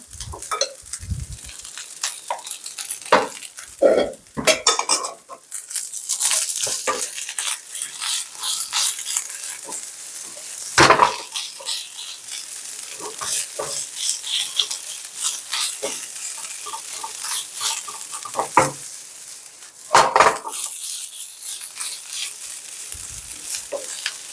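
Rice stir-fried in a wok with an extra spoonful of oil for Chinese-style shrimp fried rice, a bright continuous sizzle broken by repeated scraping stirs and the clatter of a spatula, close and fairly loud, with no voices.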